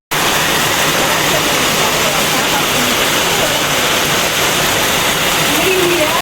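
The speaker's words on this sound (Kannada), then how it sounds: "ಒಂದ್ ಮಳೆ ಬರ್ತಾ ಇದೆ." Heavy rain pours down steadily and loudly outdoors, making a dense, even roar like a waterfall that lasts the whole stretch, with no clear voices.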